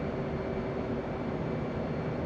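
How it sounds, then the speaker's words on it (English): An F/A-18 jet in the flight game DCS World passes overhead with a loud, steady broadband roar that holds evenly for the whole couple of seconds, with no talk. "I can hear an airplane."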